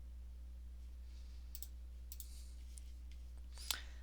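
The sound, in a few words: computer mouse clicking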